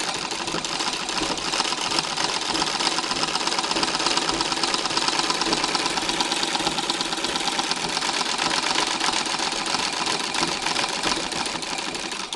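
A treadle sewing machine with freshly repacked ball bearings runs steadily and loudly for the whole stretch, a dense fast mechanical whir with a faint repeating clunk underneath.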